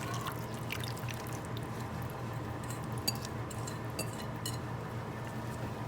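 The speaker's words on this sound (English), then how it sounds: "So I'm just going to empty it into the pan." Chicken pieces and marinade slide from a container into a pan, with soft wet pours, drips and occasional light clinks against cookware, quiet and close with no voices.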